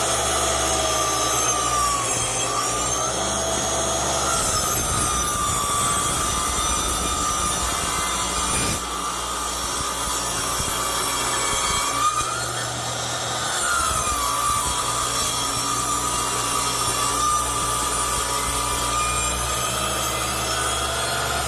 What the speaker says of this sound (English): Start the saw, and then we'll plunge.